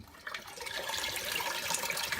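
Chicken broth poured from a carton into a cooking pot for Vietnamese shrimp paste soup, a faint, continuous splashing trickle lasting a couple of seconds with no voices.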